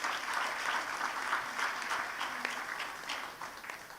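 Audience applause for human rights advocate Fumi Ransom Kuti at an International Women's Day seminar: steady, dense clapping that fills the whole stretch at a moderate distance, easing slightly toward the end.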